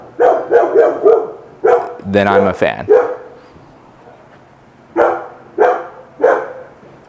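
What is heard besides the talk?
dog barking next door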